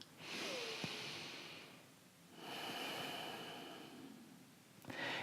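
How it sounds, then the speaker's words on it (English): Two slow, deep breaths drawn in and let out through the nose, close and soft with an airy hiss, in a quiet mindfulness meditation setting, with no talking. "we can take a deep breath."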